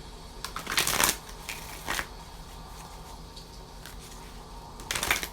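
Tarot cards shuffled close up in several crisp riffling bursts separated by quieter pauses, with faint room noise between them.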